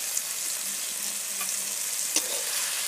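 Green chilli and garlic fry in a pan for tomato chutney, giving a steady, even sizzle with a faint clink or two and no voices.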